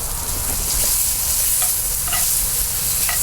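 Onions fry in a pan for oxtail stew, giving a loud, continuous close sizzle with scattered pops and crackles and no talk over it.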